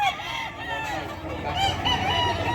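Roosters at a chicken market in Bocaue, several close crows and clucks overlapping in a busy, continuous stretch.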